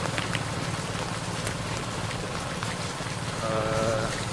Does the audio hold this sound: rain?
yes